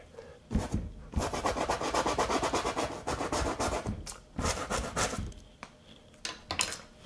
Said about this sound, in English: scrub out a little bit of that blue so I get a little more color contrast with my green on this tree.